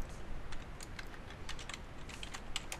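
Quick, light keystrokes on a computer keyboard tap in an irregular close rhythm, a soft clicking run of typing with no talking.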